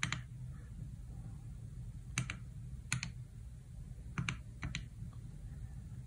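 Sparse, faint clicks of computer keyboard keys being pressed, a few isolated taps followed by short quick bursts, over a quiet background hum.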